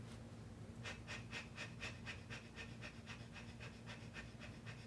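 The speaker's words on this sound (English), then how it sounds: "and begin breath of fire." Rapid, rhythmic yogic breath of fire during a Kundalini stretch pose, steady sharp exhalations pulsing about three to four times per second, close and even throughout.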